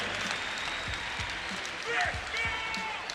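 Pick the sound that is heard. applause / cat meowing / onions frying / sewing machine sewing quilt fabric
applause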